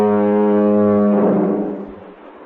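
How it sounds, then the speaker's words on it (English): A lighthouse foghorn gives a single loud, steady two-second blast with a deep harmonic drone, which then fades and reverberates away into the distance. "Well, Mr. Bennett, could you tell us what your foghorn sounds like then?"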